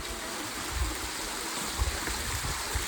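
Monsoon rainwater pours down the old stone stairs of Sinhgad fort near Pune, a steady, loud rushing wash like a stream running continuously and close, with no voices.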